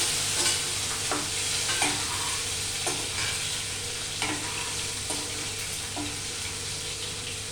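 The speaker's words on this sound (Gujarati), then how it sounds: "એમાં આમાં ટમેટોસ નાખી દેવાના." Tomatoes tipped into a hot pan for a spiced potato sabzi crackle and sizzle steadily, with a spoon scraping and stirring in repeated knocks over a constant frying hiss, close and moderately loud.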